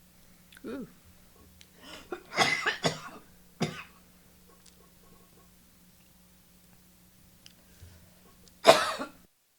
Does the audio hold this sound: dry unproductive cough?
yes